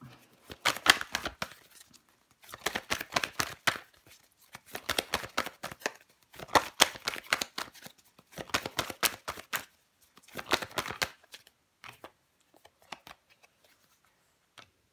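Tarot cards handled and laid down, covering the four of wands: about six bursts of rapid papery riffling and flicking separated by short pauses, close-up and with no talk.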